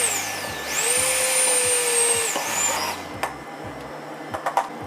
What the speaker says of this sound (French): on va venir mixer le caramel, ce qui va permettre de lui donner vraiment une belle texture bien lisse